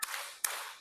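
Two sharp hand claps about half a second apart, close and crisp, each with a short bright ring-off, from a group clapping exercise in a school classroom.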